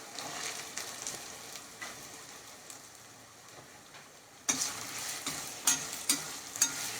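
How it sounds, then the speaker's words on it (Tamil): Three chopped large onions sautéing in a pan with ginger and garlic for a raw-banana kuzhambu, a steady close sizzle, with louder crackling and stirring scrapes in the final seconds. "வெங்காயம் வந்து நல்லா வதங்கணும்."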